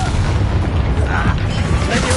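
Incendio fire spell cast in a Harry Potter-style video game, a loud booming burst with a low rumbling roar that holds steady through the moment, dense and close, with a voice talking over it.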